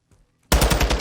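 Rapid automatic gunfire in an esports shooter, shots fired through a wall, bursting in abruptly after near silence as a loud, fast, evenly spaced string of cracks.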